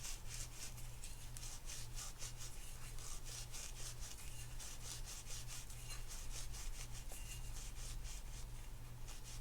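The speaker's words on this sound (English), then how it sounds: "All I'm trying to do here is smoothen out that bottom surface" Rhythmic rasping strokes as a fishing reel's bottom drag surface is rubbed smooth during a refurbish, a quiet, regular scraping repeated several times a second over a steady low hum.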